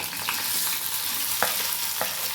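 Potato pieces go into a pan of green chillies already frying in oil, giving a constant sizzle with a few sharp stirring clicks and scrapes of a spatula against the pan.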